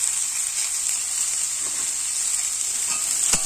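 Bitter gourd and potato pieces fry in a pan with turmeric and salt, giving a steady close bright sizzle and occasional scrapes as they are stirred.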